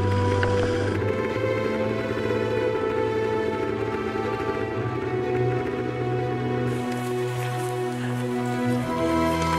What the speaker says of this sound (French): On s'est fait surprendre par une grêle assez violente.